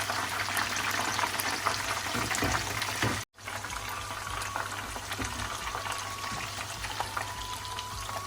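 Besan-coated fish pakoras frying on a slow flame, a dense, continuous bubbling sizzle of oil, close and even, cut by a brief dropout partway through.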